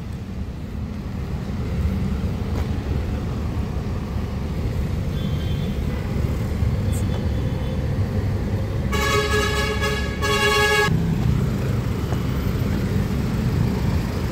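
Busy Pasay street traffic with passing jeepneys and cars, a steady rumble of engines throughout and a loud, sustained car horn honking for about a second near the middle before traffic noise carries on.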